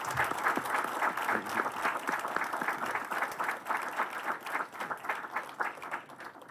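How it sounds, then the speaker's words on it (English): A lecture-hall audience gives a round of applause for the speaker at a memorial lecture in Chennai, steady dense clapping from many hands lasting several seconds and fading slightly toward the end. "I request you to give him a big round of applause"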